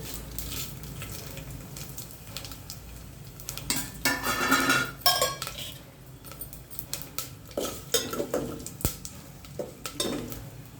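Cumin seeds and dried red chillies frying in hot oil for tamarind-leaf dal, with steady close sizzling and crackling, bursts of louder spluttering, and occasional clinks of a utensil against the pan.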